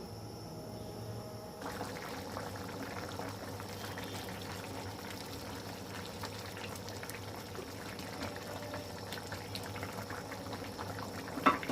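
Bhuna khichuri simmers steadily in a covered pot, a soft continuous bubbling hiss that holds at an even low level throughout, with a brief clatter near the end.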